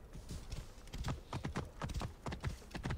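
Horse hooves clip-clopping at a steady riding gait in the video game Assassin's Creed Origins, a rhythmic, moderately close run of hoofbeats throughout.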